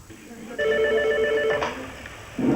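A telephone bell rings close by, a steady electronic trill of about a second before stopping, with a short voice at the end.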